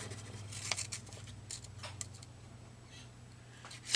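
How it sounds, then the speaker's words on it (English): Scissors snipping a slit in paper, a few quick close clicks and crisp snips over a low steady hum, fairly faint. "So I'm just going to put a slit here and cut this"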